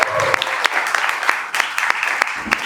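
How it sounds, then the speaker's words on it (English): An indoor audience at a UX design meetup in the UAE applauds with steady, close clapping and sharp individual claps through the whole stretch. "so round of applause, please"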